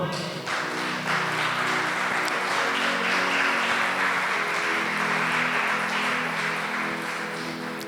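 A church congregation applauds during a Portuguese-language service, sustained dense clapping with a musical tone and voices underneath.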